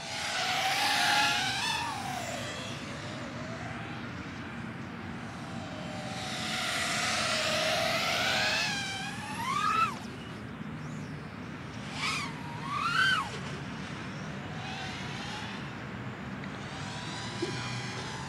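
Diatone GT-R349 3-inch micro racing drone motors whir in a steady, high-pitched buzz, with rising and falling pitch sweeps as the throttle changes, fairly close and unbroken, with no talking.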